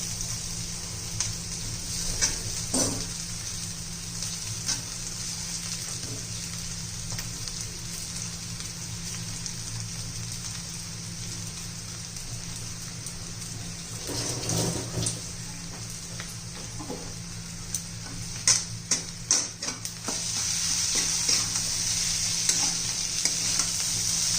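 Crushed potato frying with turmeric in a pan for a spicy potato thecha, a steady low sizzle with occasional stirring scrapes and crackles that grow a bit busier toward the end.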